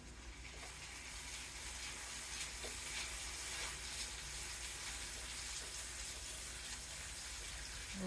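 Garlic frying in a pan, a continuous soft sizzle and crackle heard close up on its own.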